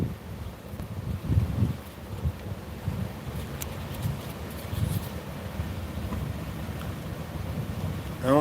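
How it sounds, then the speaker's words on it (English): Gusty wind buffets a camera outdoors at a street corner, making a loud, close, low rumbling roar that holds steady throughout with brief surges, and no voices. "that wind's really pushing on the tape on my camera, making it wobble."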